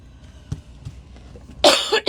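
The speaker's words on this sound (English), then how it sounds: "sorry for the coughing" A couple of harsh, loud coughs burst out close by after a quiet moment with faint rustling.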